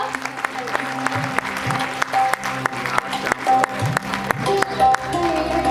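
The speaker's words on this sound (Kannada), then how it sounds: "ಎಲ್ಲರೂ ಒಂದು ಜೋರಾದ ಚಪ್ಪಾಳೆ ಮೂಲಕ ಈ ಒಂದು ವೆಬ್ಸೈಟ್ ನ ಲಾಂಚ್ ಮಾಡೋಣ" An indoor audience claps loudly and steadily to celebrate a website launch at a travel company's anniversary event, the dense applause continuous throughout with scattered louder claps.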